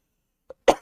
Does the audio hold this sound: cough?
yes